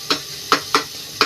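Tomatoes cooking in a pan over a gas flame are stirred in four sharp scraping strokes at an uneven pace, close and clear, with only a faint sizzle between them.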